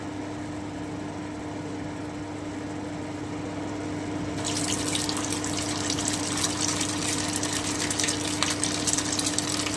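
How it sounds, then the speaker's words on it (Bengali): Chicken Manchurian balls going into hot oil: a low steady hum, then a loud, crackling sizzle starts partway through and keeps going close by. "তেলটা কিন্তু আমার গরম হয়ে গেল এবারে আমি বড়াগুলো ভেজে নিচ্ছি"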